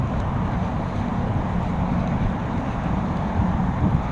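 Strong wind after a windstorm on the Ana River trail roars steadily and loudly against the microphone, a dense low buffeting that never lets up for the whole stretch.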